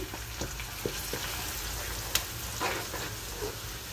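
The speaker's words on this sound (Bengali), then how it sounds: "পেঁয়াজটা ভাজা হয়ে গেছে, এখন মরিচ, হলুদ, লবণ দিয়ে দিলাম।" Onions frying in a pan with chilli, turmeric and salt just added give a steady close sizzle, broken by a few sharp clicks of stirring, with no talk over it.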